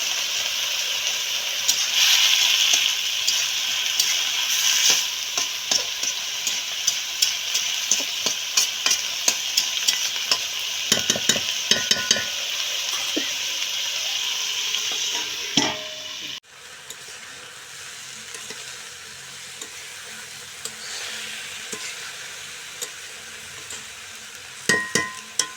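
Fish and winter vegetable curry cooks in a pan in a village kitchen, giving a steady close sizzle and frying hiss with scattered stirring scrapes; the sizzle drops quieter partway through, and no one speaks.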